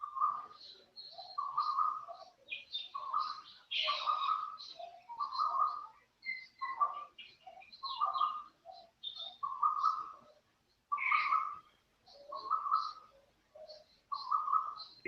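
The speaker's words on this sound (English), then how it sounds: "It is the sound of a bird." A bird calls repeatedly in short chirping and cooing phrases, faint and fairly distant, with brief pauses between bursts and no other sound.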